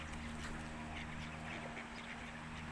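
Ducks quack in a park, coming out toward people who are feeding them. The quacks are faint and distant over steady low background noise, with no talk.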